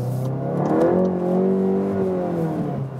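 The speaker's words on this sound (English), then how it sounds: "So we can also go to the normal sport mode, by the way. Then we have a little bit more safety net. But we already have good exhaust note." A VW Golf 8 GTI Clubsport with 300 horsepower on the front wheels accelerates, its exhaust note rising steadily in pitch and holding loud and close from inside the car.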